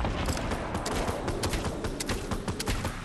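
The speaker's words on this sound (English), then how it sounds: "you can shoot the crossbow so fast now" Rapid-fire crossbow shots in the video game Fortnite form a dense, continuous volley of sharp cracks and impacts, loud and close, with game combat noise running throughout.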